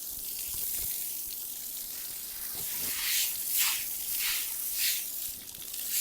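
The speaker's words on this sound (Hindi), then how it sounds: "अभी ये वाला जो बड़ा झाड़ू है ना इसके साथ यहाँ से हटा लेते हैं।" A floor in a mud house is washed with water and swept with a large broom, a steady wet hiss with rhythmic swishing strokes that grow more distinct toward the end.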